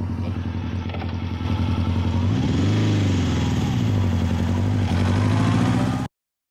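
A motorcycle engine idles loudly nearby in a steady rumble, rising briefly in pitch as it revs once around the middle before settling, then cutting off abruptly.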